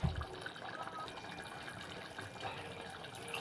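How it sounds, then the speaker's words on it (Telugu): Water poured into a pot of goat head curry, a steady, faint trickling splash close by that runs throughout with a brief thump at the start. "కొంచెం వాటర్ వేద్దామండి."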